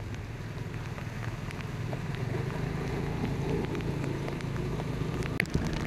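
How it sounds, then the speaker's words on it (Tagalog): Steady rain falling during Typhoon Carina, a dense, continuous hiss of drops on surfaces with a low rumble underneath, even in level throughout with a faint click near the end. "May ulan pa lang yan mga boss,"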